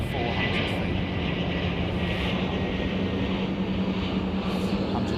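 A fixed-wing airliner on approach to runway 09 with gear about to come down, its engine noise a steady, loud broadband rumble throughout, with a low drone beneath and talk heard over it.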